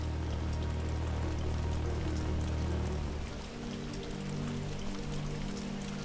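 Steady rain ambience in the video game Ghost Hunter: a dense, continuous patter of raindrops over a low rumbling bed, even and unbroken throughout.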